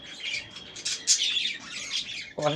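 Pet budgerigars chirp and squawk steadily in a home cage, a busy run of bright, close chirps that carries on without pause and has no speech over it.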